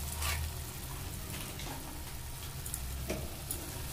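Food frying in a pan with salt and Kashmiri dried chili powder, stirred steadily: a continuous close sizzle with occasional soft scraping ticks, no talk.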